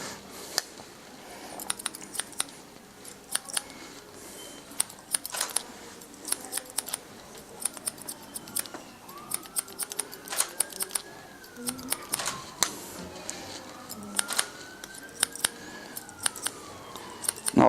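A barber's scissors snip hair in quick, crisp clicks, sometimes in fast runs and sometimes spaced apart, close and distinct over a low background hum, with a faint passing siren wail in the distance.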